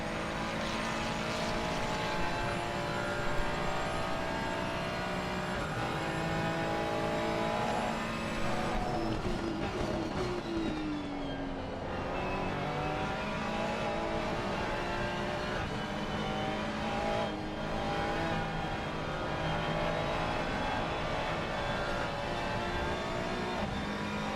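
GT3 race car engine heard from onboard during a qualifying lap at Catalunya, a loud, continuous high-revving drone with repeated rises and gear-change dips, and a deeper drop while braking midway.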